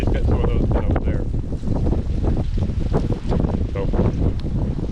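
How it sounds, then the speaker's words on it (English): Strong wind buffets the microphone with a continuous loud roar and rumble, gusting throughout. "It's windy as hell."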